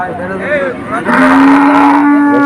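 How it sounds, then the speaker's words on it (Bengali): A loud, close cow moo, drawn out and steady, rising over the murmur of a busy outdoor crowd at a cattle market in Betaga. "এই যে অনেক গরু দেখা যাচ্ছে এখানে"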